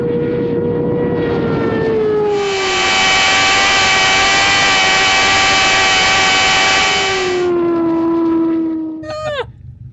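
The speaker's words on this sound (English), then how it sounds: "the supercharger sounds fantastic" A supercharged, relatively stock motorcycle running flat out gives a loud, steady, high engine whine with a strong supercharger note. Its pitch sags, climbs and settles, then cuts off abruptly near the end with a brief rising sweep.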